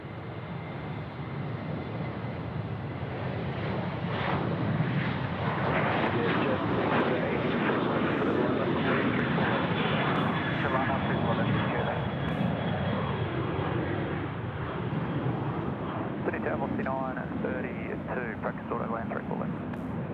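A jet airliner rumbles and roars steadily on the runway at Sydney Airport, a loud sustained engine drone running throughout, with radio voices heard intermittently over it.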